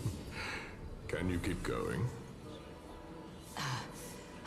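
A game character in Honkai Star Rail pants and gasps with short breathy exhalations amid voiced talk, the breaths rising close and clear between spoken lines.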